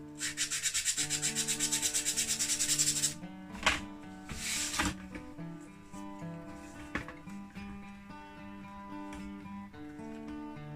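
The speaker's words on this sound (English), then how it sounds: "Sometimes you may need to slightly sand the inside here just to get a slightly flusher finish." Rapid rhythmic rubbing as the inside of a Fokker D8 model kit part is sanded, about three seconds of steady strokes with a few brief scrapes after. Background music plays throughout.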